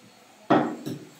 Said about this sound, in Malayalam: ഒരു തക്കാളി ഇട്ട് നമ്മളൊന്ന് മിക്സ് ചെയ്ത് കൊടുക്കാം